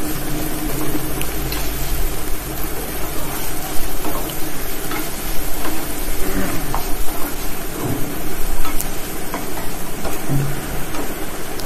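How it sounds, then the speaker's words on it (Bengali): Onion and vegetables frying lightly in a pan, a loud, steady, close sizzle like rain, with occasional scrapes and knocks of a stirring spoon throughout and no talking. "তারপরে ওর মধ্যে সবজিটাকেও দিয়ে দিলাম, দিয়ে এবার সবটাকে ভালো মতো করে ভেজে নিচ্ছি হালকা করে।"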